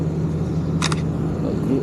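A camera shutter fires quickly twice while photographing a vehicle being hauled, two crisp clicks heard briefly over a loud steady low engine-like rumble.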